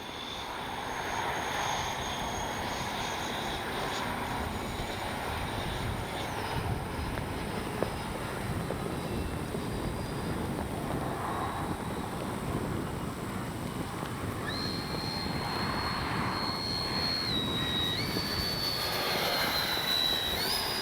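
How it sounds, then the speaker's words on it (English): An FMS 70mm electric ducted-fan RC model of an A-10 Thunderbolt II roars steadily overhead for the whole stretch, a constant loud whine with shifting high tones as it passes. "What a beautiful plane."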